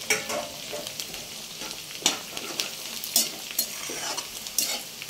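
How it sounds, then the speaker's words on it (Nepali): Garlic frying with onion in a pan for chicken curry, a steady soft sizzle broken by several sharp scraping stirs, close and fairly quiet. "यसरी लसुन राख्ने, यतिखेर अझ फ्राई गर्ने होला।"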